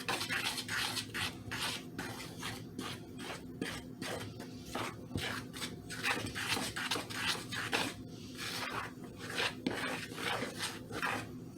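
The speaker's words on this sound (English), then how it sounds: "We're going to go ahead and gently start stirring this in." A spoon stirs flour into biscuit dough in a bowl, making repeated rhythmic scraping and rasping strokes that stay close and fairly quiet, with no talking.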